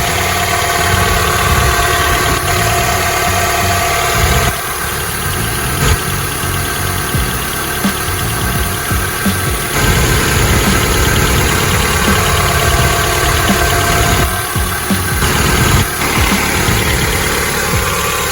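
Steady, close idle of a 1993 Toyota Camry's 2.2 liter 5S-FE four-cylinder engine, running a few minutes after a valve cover gasket replacement, with an even rumbling hum and faint ticking that holds continuously with no talking.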